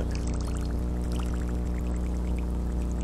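A floating fishing lure, an Allblue copy sitting tail-down at about 45 degrees, churns a small wake as its tail spins in place, giving a steady close-up gurgling splash that runs continuously and alone.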